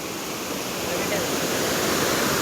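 A heavy waterfall pours with a dense, continuous roar of rushing water, loud and close, steady throughout without a break.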